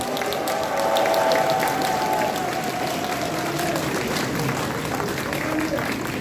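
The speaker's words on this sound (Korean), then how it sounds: "좋은 노래 들려주신 우리 푸른솔 합창단의 뜨거운 박수 부탁드립니다" An audience claps for the Pureunsol choir at a party members' conference, a steady moderate applause with a voice speaking over the first part.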